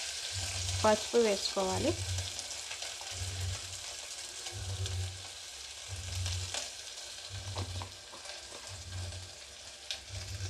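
Ginger garlic paste fries in oil with a continuous close sizzle and a regular, rhythmic stirring pulse, while a voice speaks briefly over it.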